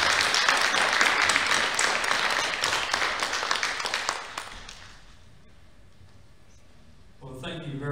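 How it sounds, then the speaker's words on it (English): Audience at a mental health and wellbeing forum applauding a panel, a dense burst of clapping for about four seconds that thins out and fades, followed by a quieter stretch and then a voice speaking. "Big round of applause for our panel."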